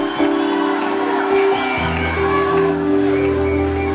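Congregation at a church service shouting amens and ululating: a loud, sustained crowd roar with high trilling cries and shouts, continuous throughout.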